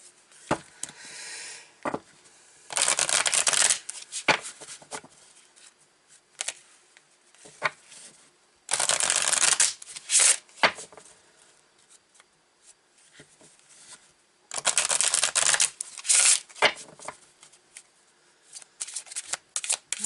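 An oracle card deck is shuffled by hand in several separate bursts of quick, papery riffling and flicking, with quiet pauses and small handling noises between them.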